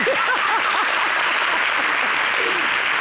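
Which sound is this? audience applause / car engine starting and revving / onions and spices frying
audience applause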